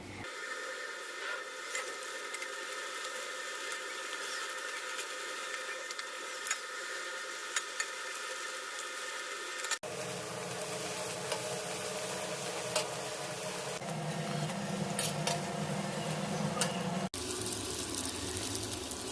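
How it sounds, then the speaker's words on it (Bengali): Luchi dough frying in hot oil, heard as a continuous hiss and bubbling fizz that shifts character partway through as fresh pieces go in, steady and moderately close with no talking. "তারপর তেলের মধ্যে ঢেলে দিই, লুচি হয়ে যায়"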